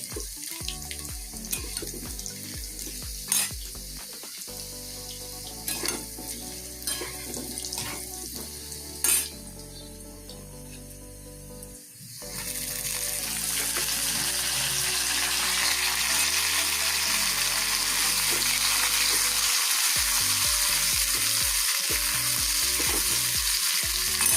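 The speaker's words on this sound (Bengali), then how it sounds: "গোটা জিরে আর তেজপাতা ফোড়ন দিয়েছি, আলুটা একটু ভালো করে ভেজে নেব।" Potatoes fry in hot oil with whole cumin and bay leaf, a steady loud sizzle that swells and thickens about halfway through, with occasional stirring clatter and no talking.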